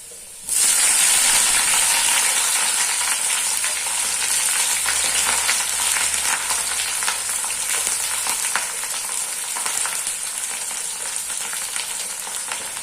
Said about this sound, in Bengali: এবার দেবো এই যে পেঁয়াজ, 2টি পেঁয়াজ আমি কেটেছিলাম, সেই পেঁয়াজটাকে দেবো।